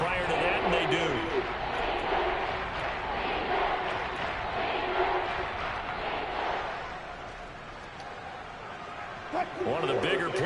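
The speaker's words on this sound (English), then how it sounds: "the crowd getting into it as we come up on a big 3rd down" A stadium crowd in the Madden 22 American football video game builds into a broad roar of cheering ahead of a big third down, swelling and easing across the stretch with a commentator speaking over it.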